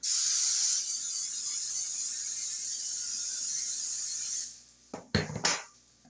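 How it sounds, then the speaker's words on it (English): A steady, loud aerosol hiss of pan release spray coating a cheesecake pan lasts about four seconds, then stops, followed by a few brief clattering knocks. "we're gonna spray our pan release"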